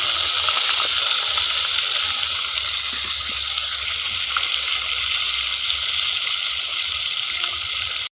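Tilapia fries in boiling oil with a steady, loud sizzling hiss and crackle, continuous and close, with no voices heard.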